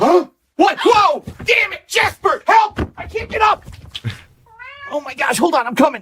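A person talks hurriedly, then a cat lets out a drawn-out, wavering meow near the end, partly overlapping the voice.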